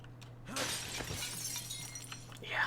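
Glass shattering in the video game State of Decay 2: a sharp crash and scattered tinkling fragments over a faint steady hum, ending in another bright burst.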